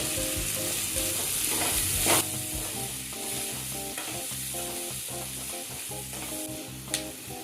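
Three large onions frying for a banana flower chutney, giving a steady close sizzle with repeated scraping and stirring strokes in the pan, with no talk over it.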